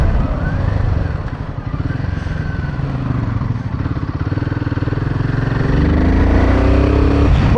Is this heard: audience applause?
no